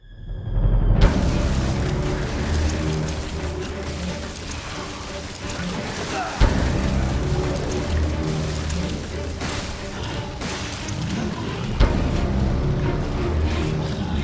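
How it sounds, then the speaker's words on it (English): An automated sentry turret in Resident Evil 7 fires steadily at enemies, a dense continuous rattling roar with a couple of sharper heavy impacts standing out, loud and sustained throughout. "let the turret handle all of the enemies"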